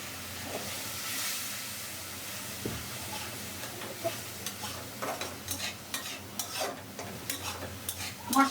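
Masala of turmeric, chilli powder and black cumin paste fries in oil as it is stirred, a steady close sizzle and hiss with rhythmic spatula scrapes and taps that grow more frequent.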